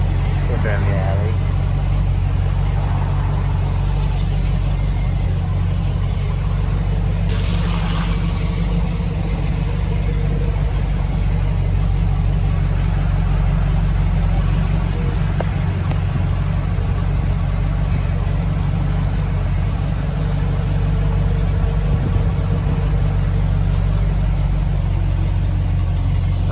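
A Model A Roadster hot rod rumbles along during a ride through the Motor Row district of Davenport, Iowa, its engine giving a deep, continuous low drone under ongoing conversation for the whole stretch.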